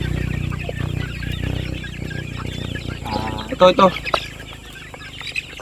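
Kelso gamefowl chickens cluck at close range in a farm setting, with a short burst of louder calls partway through while someone talks.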